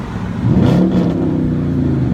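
A car engine with a loud, raspy exhaust revs up briefly, then settles into a rumbling idle close by.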